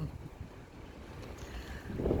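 Strong wind in an Icelandic snowstorm, a steady roaring rush buffeting the microphone, swelling louder toward the end, with no voices.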